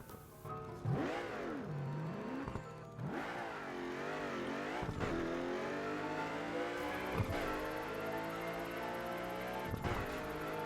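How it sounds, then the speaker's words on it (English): A race car tears along at high speed in Burnout Paradise, its engine revving and shifting continuously with rising and falling pitch sweeps, loud and steady throughout, with brief gear-change dips and no talking. "right away I'm going to fix this car up and take it for a spin during a race"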